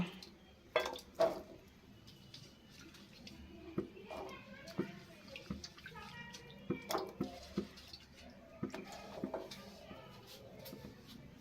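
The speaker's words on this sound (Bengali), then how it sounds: "জল গরম হয়ে গেছে কড়াইয়ে। এরপরে আমগুলো আমি দিয়ে দিচ্ছি।" Raw green mangoes added to hot water in a wok, giving soft splashes, clunks and dripping water, fairly quiet and partly under someone speaking.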